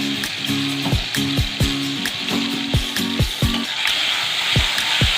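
Ginger garlic paste sizzles in a hot pan for palak paneer, a steady bright frying hiss with repeated rhythmic knocks and scrapes of a spoon stirring against the pan.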